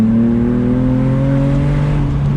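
A BMW M240i engine drones loud and close, its pitch climbing smoothly as it accelerates on a narrow, bumpy road, steady and unbroken with no talking.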